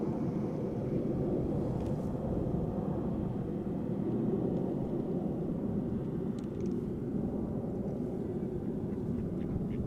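A KLM Boeing 737-800 passes overhead near Amsterdam Schiphol Airport, a steady broadband jet roar that holds loud and constant throughout, with no voices.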